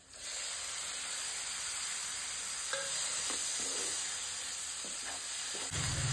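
Chopped large tomatoes stirred into sizzling chole masala in a pan, a steady frying hiss with soft scraping strokes of the spoon throughout and a louder clatter near the end.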